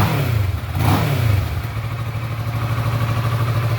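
A stock 2013 Kawasaki Ninja 650 motorcycle engine revs up sharply once from idle, then settles back to a steady, close-up idle burble.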